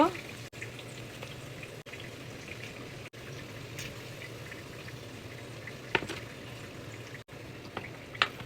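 Sugar melting and frying in a pan with sweet potato, a soft continuous sizzle with faint bubbling and a few brief clicks and knocks, while someone talks over it.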